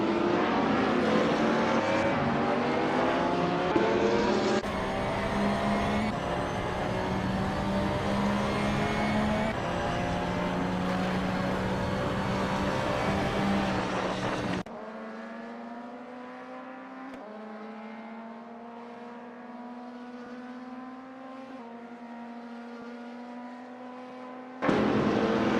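A 2007 BMW 320i touring car in a racing video game drones along at high revs with other cars nearby, engine pitch climbing and shifting through gears, then falling quieter and thinner before a sudden loud return.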